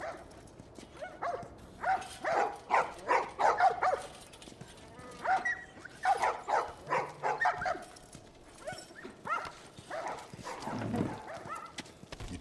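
A dog in The Last of Us gives bursts of sharp barks in quick runs, broken by short pauses, with whining squeals between them, fairly close and loud.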